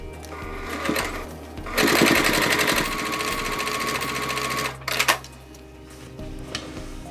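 A sewing machine stitches along an existing seam on a crossbody bag pocket, its rapid mechanical whirring running in two loud near bursts, the first brief and the second long and steady, then stopping with a few clunks.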